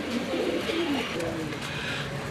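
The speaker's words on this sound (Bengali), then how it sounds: "আমরা চলে আসলাম একজোড়া শাটিন কবুতর" A pair of satin pigeons at a pigeon sale, cooing in soft, low, rolling notes nearby over a hum of background noise.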